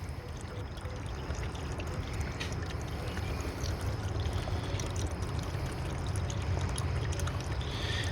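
Heavy duty radiator flush cleaner poured into a car radiator, a steady, continuous gurgling stream that runs unbroken and close by with no voices.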